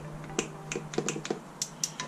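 Torque wrench clicking as stator cover bolts on a Honda VFR are tightened in a crisscross pattern: a series of about ten short, sharp, close clicks spread irregularly over two seconds, alone without talk.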